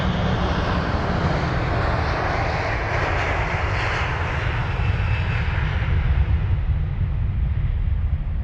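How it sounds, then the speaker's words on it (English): Sri Lankan Airlines Airbus A330-300 taking off from London Heathrow, a loud, continuous full-power jet roar with deep rumble, swelling slightly and then easing as it climbs away. "Absolutely rocketing out of LHR goes flight number UL 506 for the Sri Lankan"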